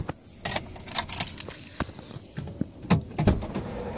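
Keys jangle in short metallic bursts, loud and close, with clicks and rattles scattered through the few seconds and no talking.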